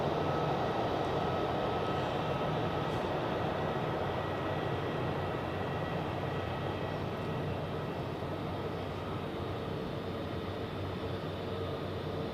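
Pilatus PC-12 turboprop lining up on runway 28 at Zurich Airport in the evening, a steady, even engine drone with a faint tonal whine, constant in level and heard from a distance.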